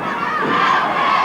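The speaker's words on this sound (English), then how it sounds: "Crowd chanting for Ted to go." Wrestling arena crowd at an All Star American Wrestling match chanting in unison, a loud, steady wall of massed voices close and continuous throughout.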